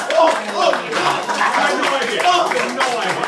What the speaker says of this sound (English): I wanted everyone to join me in a round of applause for my good actor friend, Todd Blankenship here